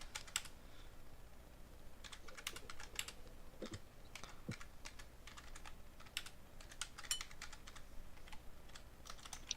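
A chat message is typed on a computer keyboard in quick, irregular bursts of close, quiet key clicks, steady over a soft background hum with no talking.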